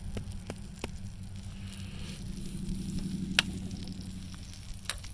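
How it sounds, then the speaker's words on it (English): An egg sizzles and fries in a pan over a homemade welded steel rocket stove, a steady close crackling hiss with a few sharp pops and ticks, no talking. "So we're going to try to cook an egg and see how well it does."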